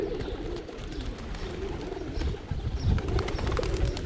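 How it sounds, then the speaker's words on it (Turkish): Street pigeons coo softly and repeatedly while being fed, low rolling calls running throughout at close range over a background of outdoor street noise, with no talking. "Kuşları da Menderes abinin yemiyle yemlemiş olduk."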